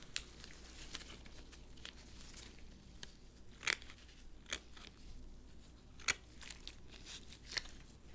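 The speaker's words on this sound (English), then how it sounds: "I'll have to cut this slightly smaller." A kiwano melon is cut into smaller pieces in close, quiet detail, with scattered crisp snips and crunchy clicks at irregular intervals over faint rustling and a low background hum.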